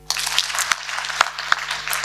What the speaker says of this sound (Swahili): Tupigie makofi.